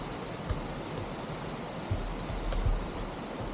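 Middle Falls at Ng Tung Chai waterfall in Hong Kong pours out a steady, dense rush of water, broad and continuous with low rumbling underneath and no breaks.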